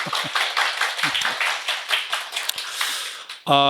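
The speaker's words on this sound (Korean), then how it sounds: "박수" A lecture audience at a Korean teacher-exam strategy briefing claps briefly, uneven near clapping that fades in bursts, ending with a short tonal sound.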